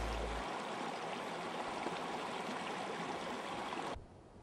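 A creek rushes and burbles steadily at close range, a full continuous wash of running water that drops off abruptly near the end.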